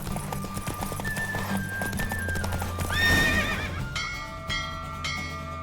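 Rhythmic hoofbeats clip-clop at a gallop while a horse whinnies midway, with bells ringing over the steady beat.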